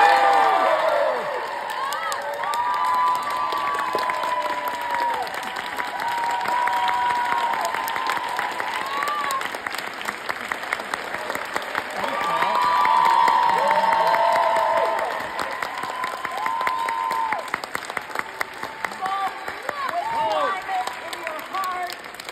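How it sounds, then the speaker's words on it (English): Audience applause and cheering for Jane Fonda, a steady crowd roar with whoops and shouts lasting throughout, loud and sustained with voices mixed in. "Can we get a huge round of applause for Jane Fonda?"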